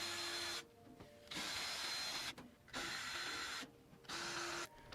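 A power tool backs T20 Torx screws out of the back panel of a Bosch dryer in four loud, whirring bursts of a few seconds each, with short quiet gaps between them.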